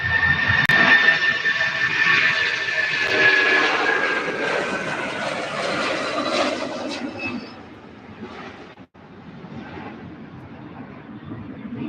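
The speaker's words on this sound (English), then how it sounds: "Okay, that is coming in, guys. Everybody, we have a Mirage F1 on" A Mirage F1 jet approaching Louisville's SDF airport gives a loud, steady roar with a high whine, then fades to a lower, more distant rumble partway through.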